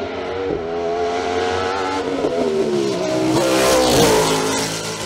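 A BMW M3 E92 race car climbs the Col Saint Pierre hill climb at Saint-Jean-du-Gard in a 2022 production-class event. The engine is loud and close, revving hard with rising pitch through the gears and brief dips between shifts.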